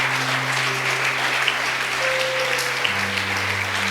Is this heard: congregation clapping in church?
yes